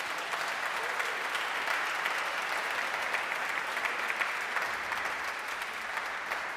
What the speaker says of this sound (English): So let's give a round of applause for Jazz House.